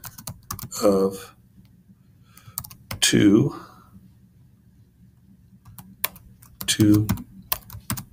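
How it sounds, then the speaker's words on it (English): Rapid clicking keystrokes on a computer keyboard while entering chart titles in Google Sheets, quick close typing bursts between stretches of someone talking. "Now I'm gonna type density"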